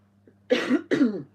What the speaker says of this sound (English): I felt like I've wanted to clear my throat for a while.